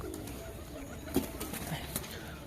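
Old domestic tumbler pigeons at a loft, with soft cooing and a few brief wing flutters over a low murmur of background voices.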